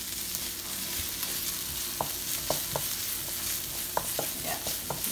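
Onions sizzle in a pan while being stirred, soft frying hiss throughout with scattered sharp scrapes and clicks of the spoon against the pan, fairly quiet and close.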